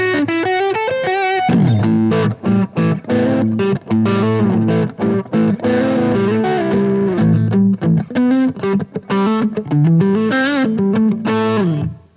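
Taylor T5 acoustic-electric guitar played through a touch of overdrive, giving a swampy, mid-heavy tone with top-end bite; strummed chords and single-note runs ring out continuously and loud, with no talking.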